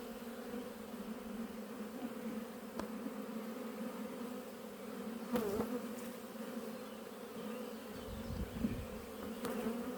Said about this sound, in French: Donc ça c'est un essaim qui sera bon pour 2025.